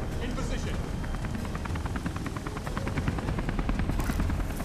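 In the video game Beyond Two Souls, a helicopter's steady rotor thump pulses through a dense, loud roar, with quick rapid-fire gunfire-like bursts and a voice talking over the din.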